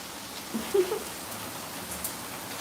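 Heavy rain pours and runs through gutters, a steady wash of falling water with a few brief louder spatters, heard alone without talk.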